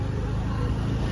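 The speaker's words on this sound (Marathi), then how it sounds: "रस्त्याला एवढा आवाज आहे ना गाड्यांचा" Steady road traffic from passing cars and buses along a busy street outside shops, a continuous low rumble with no distinct pauses.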